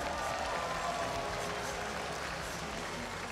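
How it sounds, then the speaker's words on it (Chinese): At a professional baseball game between Fubon Guardians and CTBC Brothers, a stadium crowd applauds and cheers steadily, a dense, even wash of clapping heard from a distance. "先给你们自己掌声鼓励好吗"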